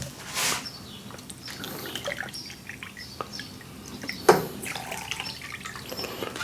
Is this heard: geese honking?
no